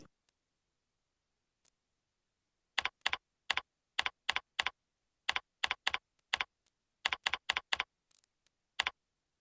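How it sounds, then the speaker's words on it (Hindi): Typing on a computer keyboard while working in Microsoft Word 2010, with bursts of crisp, close key clicks in quick runs separated by short pauses in an otherwise quiet room. "अब आप यहां टेक्स्ट टाइपिंग शुरू कर सकते हैं।"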